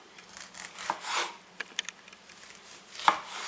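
A knife cubing tomato on a cutting board for tostadas, giving soft, scattered taps and brief rubbing cuts at close range.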